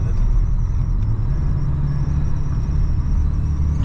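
A lowered 1985 Chevrolet C10 short-bed pickup with a 700R4 overdrive automatic cruises through a turn, giving a steady low engine and road rumble heard from inside the cab, even and unbroken throughout.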